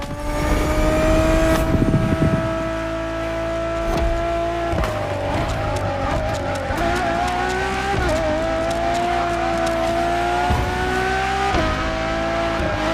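A Ferrari Enzo supercar drives in The Crew Motorfest racing game: a loud, sustained engine drone that climbs and shifts in pitch through several gear changes, with brief tire scrubs, heard without talk.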